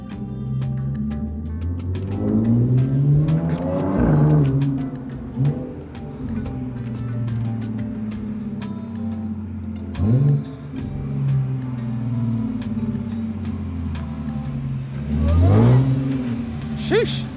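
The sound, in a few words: VW GTI hybrid turbo engine revving with supercharger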